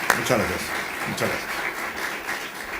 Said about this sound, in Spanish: Demos un fuerte aplauso y la más cordial de las bienvenidas al maestro César Jauregui Robles.